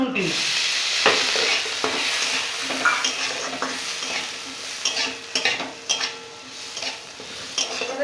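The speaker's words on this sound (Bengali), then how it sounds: "দিয়ে দিব কাজু বাদাম বাটা এবারে দিয়ে দিব মটর" Cashew paste and green peas stirring and frying in a pan for a home-style paneer vegetable curry, with a steady sizzle, scraping stirs and occasional utensil clinks against the pan throughout.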